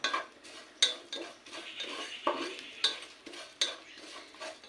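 Grated coconut dry-roasting in a pan over a medium flame, stirred with a utensil: repeated scraping strokes and light metallic clinks in an uneven rhythm over a soft background hiss, no talking.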